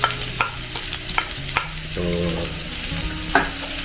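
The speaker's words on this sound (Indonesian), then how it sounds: "Nah ini kalau udah cukup panas, lalu masukkan pertama-tama si bawang putihnya ya." Garlic sizzles in hot oil in a pan, a steady frying hiss broken by sharp scrapes and clicks of stirring, with a low tonal hum running underneath.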